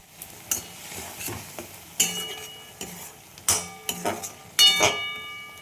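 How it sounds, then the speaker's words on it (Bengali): Ground spices with salt, cumin, chilli and turmeric fry in a pan for a tengra fish dish, with a soft sizzle under repeated clinking scrapes of a utensil against metal. "দেখো মশলাটা ভাজা হয়ে গেছে,"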